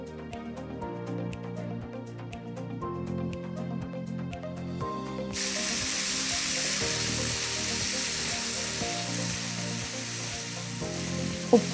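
Ingredients such as curry leaves and masala powders sauté in a pan for Kerala-style masala duck roast. A broad hissing sizzle starts midway and holds steady beneath background music.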